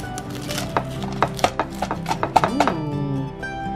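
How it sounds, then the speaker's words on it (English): A spoon scooping into the buttery, flaky crust of a Trader Joe's chicken pot pie, giving a series of crisp crackles and soft thunks against the dish, close up, with a brief voice in the background. "I'm just gonna scoop out, listen to that."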